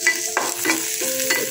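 Oil sizzles steadily around green chillies, garlic and onion in a pan, broken by a few distinct spatula strokes and scrapes, close and fairly loud.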